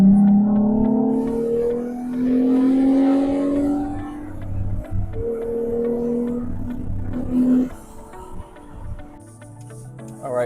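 A 2016-23 Toyota Tacoma V6 fitted with a WEAPON-R air intake accelerates hard from inside the cab, its engine note climbing steadily through the gears with loud rising drone and brief dips between shifts.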